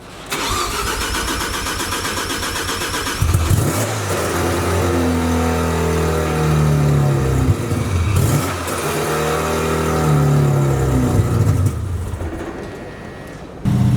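A Mazda RX7 rotary engine cranks and catches, then runs at a rough, uneven idle with rising and falling revs, loud and close, ending with another burst of cranking.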